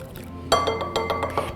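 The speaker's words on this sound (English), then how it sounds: "now I'm just gonna start pouring this in and making sure I'm whisking everything together quite quickly" Liquid is poured into an egg mixture while it is whisked quickly for a chocolate bourbon pecan pie. The whisk clinks fast and repeatedly against a bowl, near and clear over a soft steady background.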